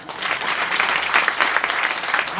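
A church congregation claps in a brief, dense burst of applause, loud and continuous throughout.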